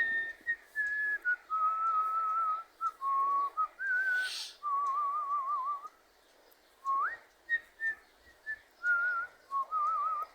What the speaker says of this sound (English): I recorded some whistling.